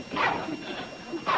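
A dog gives two or three short barks and yips over the line, close and moderately loud, with a whimpering edge between them.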